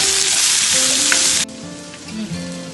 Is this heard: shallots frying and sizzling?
yes